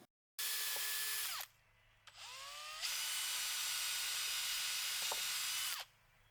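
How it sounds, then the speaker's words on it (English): A power drill pre-drills screw holes in wooden privacy fence boards, whining loudly in several bursts that start, bog down as the bit bites and then stop, with brief pauses between holes. "So I measured and marked the same spots on each board and pre-drilled the holes."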